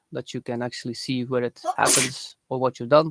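A single sharp sneeze bursts out in the middle of a man's steady speech, brief and close, with talking resuming right after.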